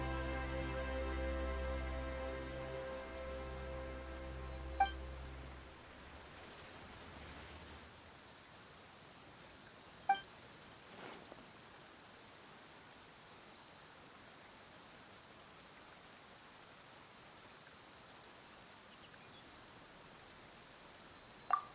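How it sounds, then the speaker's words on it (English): Rain falling in the fantasy game Genshin Impact, a steady soft hiss of downpour that continues alone after a low musical tone fades early, with a few faint isolated drips or clicks. "Why is it raining all of a sudden?"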